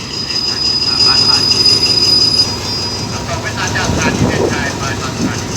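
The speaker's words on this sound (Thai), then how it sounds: "มาแล้วครับกับขบวนรถเร็วขบวนที่ 109 ครับต้นทางจากกรุงเทพอภิวัตร" Rapid train No. 109 from Bangkok rumbles steadily past close by as it arrives at Ban Phachi Junction station, with metallic wheel squeal and a high whine, the heavy noise continuous throughout.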